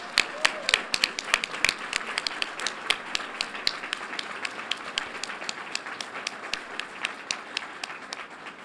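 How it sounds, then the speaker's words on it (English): A crowd at a school board meeting applauds with scattered, crisp hand claps that thin out over several seconds, with faint voices mixed in. "Let's give him a round of applause."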